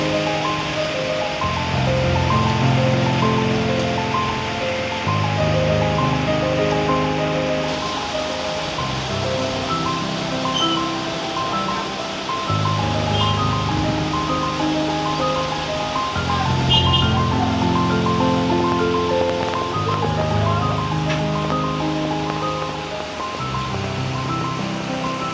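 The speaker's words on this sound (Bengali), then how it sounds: "আপনারা একটু বৃষ্টির শব্দ শুনুন।" Heavy rain pours down steadily during a storm, a dense, continuous wash of noise that stays loud and even throughout, with no voices.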